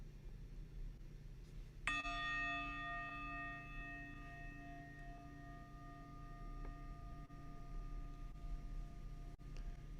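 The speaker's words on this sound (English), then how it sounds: "And so the bell will ring" A single meditation bell is struck once and rings with a clear, sustained tone that slowly fades over several seconds against a quiet background hum.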